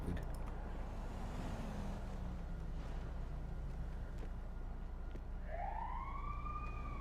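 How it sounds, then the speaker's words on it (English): Police siren wailing in the GTA roleplay game, distant at first and rising into a clear sweeping wail near the end, over a constant low engine rumble and background noise. "Now we hear sirens long after"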